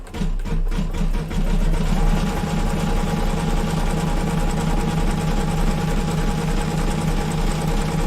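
An embroidery sewing machine stitches out a colorway on a double-pocket zip pouch, a steady fast mechanical whirring with a rhythmic needle chatter running loud and continuous throughout, no voices.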